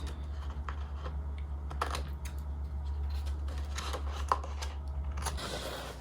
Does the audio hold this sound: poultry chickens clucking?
no